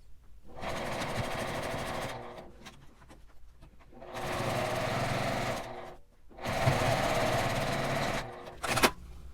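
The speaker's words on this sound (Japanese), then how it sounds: "ここから縫い始めてぐるりと返し口まで縫います" A sewing machine stitches the seam of a fabric zipper pouch in three steady whirring bursts of a few seconds each, with short pauses between and a brief click near the end.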